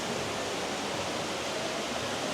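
An indoor waterfall inside a Bass Pro Shop at the Silverton Casino Lodge in Las Vegas makes a constant, even rush of falling water, moderately loud and steady with no voices.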